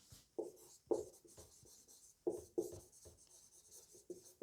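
Chalk or marker writing out a physics equation on a board, a series of short scratchy strokes in uneven bursts, close and fairly quiet with no talking over them.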